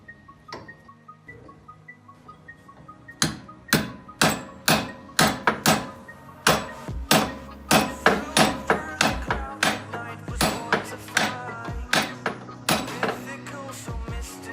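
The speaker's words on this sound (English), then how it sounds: "Can you just hit the back of the bushing with the hammer?" A hammer strikes the back of a metal bushing on a Jeep repeatedly in a steady series of sharp, loud blows, close by, after a few quieter taps at the start.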